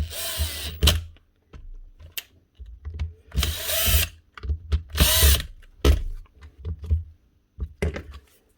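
A well-worn power tool motor fires in repeated short bursts, loud and close. Each whirring run starts and stops abruptly, with brief gaps between them.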